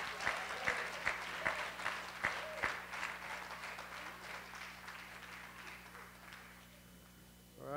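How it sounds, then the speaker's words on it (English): Church congregation gives a newcomer a short round of applause, a soft, fairly distant patter of many hands that fades out over several seconds, heard alone with no talk over it. "can you give him a little applause to let him know?"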